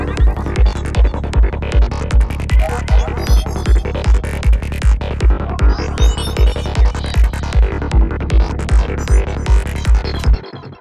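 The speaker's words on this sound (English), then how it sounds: "kind of like an atmospheric lead" A Massive synthesizer lead with an airy, atmospheric tone rides over a pounding, regular electronic kick, loud and continuous until it cuts off near the end.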